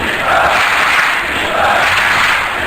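A large live crowd at a CS:GO DreamHack 2014 esports match in Jönköping roars and cheers loudly and continuously, swelling in two waves.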